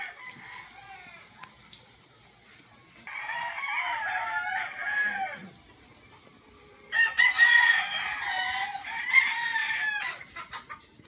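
Chickens cluck nearby on a rural lot planted with fruit trees and bananas while a rooster crows twice, with the second crow louder and followed by more clucking.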